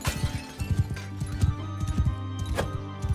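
Horse hooves pounding rhythmically at a gallop in the Bannerlord video game, close and steady with a whinny partway through.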